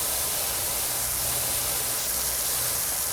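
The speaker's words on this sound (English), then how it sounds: "I was trying to spray the kitty with the power washer" A steady, unbroken power washer hiss in PowerWash Simulator 2, a dense broadband spray held at constant loudness with no pauses or talk.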